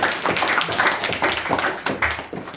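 A small group at a devotional Bhagavad Gita study gathering claps for a participant's chanting, a short burst of uneven, close hand claps without any voices.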